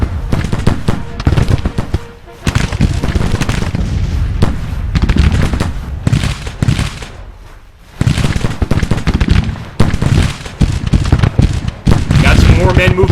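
Civil War artillery and musket fire in Grand Tactician: The Civil War rattle nearly nonstop in loud, dense volleys and booms, with brief lulls, while someone talks over the battle.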